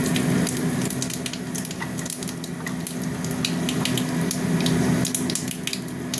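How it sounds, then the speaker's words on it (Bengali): Dried red chillies and panch phoron sizzle in hot oil in a kitchen pan, a steady close crackling hiss scattered with sharp little pops that runs on without a break. "তেল গরম হয়ে গেছে, শুকনো লঙ্কা দিয়ে দিলাম, আর দিয়ে দেবো একটু পাঁচ ফোড়ন"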